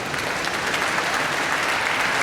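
Audience at a Korean world mission conference applauds steadily and loudly, a dense, even wash of many hands clapping throughout with no speech on top.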